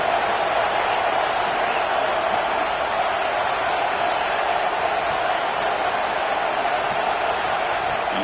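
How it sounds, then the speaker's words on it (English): A stadium crowd at a UGA football game roars in a dense, unbroken wall of noise, loud and sustained from start to finish. "this crowd is fired up. Listen to this noise here"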